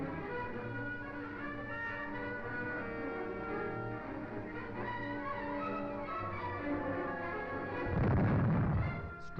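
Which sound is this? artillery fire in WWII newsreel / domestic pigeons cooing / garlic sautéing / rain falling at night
artillery fire in WWII newsreel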